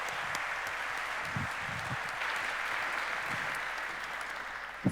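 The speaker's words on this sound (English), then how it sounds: "Let's give them a big round of applause." Audience applause at a summit event, steady sustained clapping from a large crowd filling the space throughout, with no speech over it.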